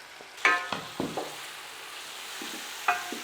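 Chopped tomatoes dropped into a pan of frying garlic ginger paste for beef yakhni pulao, a few sharp clinks and splats over a quiet steady sizzle.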